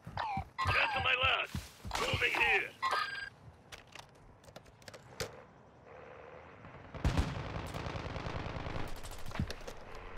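Video game gunfire crackles in sharp bursts, fast rattling volleys mixed with single shots, while a radio-style voice talks early on and a sustained mechanical tone and later dense firing fill the rest.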